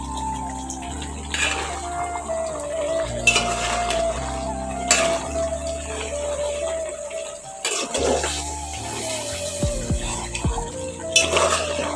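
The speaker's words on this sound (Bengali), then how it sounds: "আমি ডাকনা দিয়ে ডেকে দিচ্ছি বন্ধুরা সেটা আমার সিদ্ধ হোক" A lid clinks down onto a pot of chicken and beans cooking on the stove, giving a few sharp metallic knocks over a steady bed of background music.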